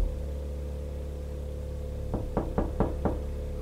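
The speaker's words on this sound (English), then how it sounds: "Who's knocking?" Five sharp knocks on a door come in quick succession near the end, following a long stretch of steady low hum and background noise.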